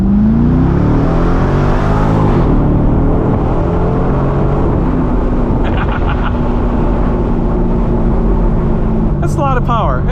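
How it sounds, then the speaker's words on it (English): A 2012 Corvette C6 Grand Sport 4LT Centennial Edition V8 roars loud and close as it accelerates hard, the engine note climbing and sustained throughout, with a voice briefly audible near the end. "let's go nice and slow and then slam the gas"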